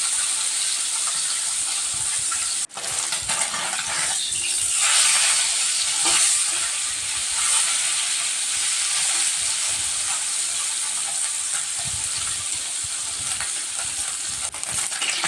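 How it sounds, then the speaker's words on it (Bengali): Fish frying in hot oil in a pan, a loud, continuous sizzle and hiss with a sharp clank of a utensil near the start and occasional stirring noises. "এদিকে আমার মাছ ভাজা প্রায় কমপ্লিট হয়ে গেল মাছগুলো ভেজে ভালো করে উঠিয়ে নিলাম"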